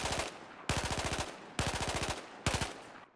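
Four rapid bursts of automatic rifle fire in Battlefield 4, each lasting about half a second with short gaps between, loud and close with no voices.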